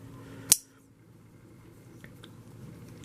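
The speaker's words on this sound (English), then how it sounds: "there's a small clicking sound that you can kind of notice" A folding knife from the Curtiss ODT line gives a single sharp click as its blade lock shifts, close and crisp against a quiet background. A couple of faint ticks follow, with no talk.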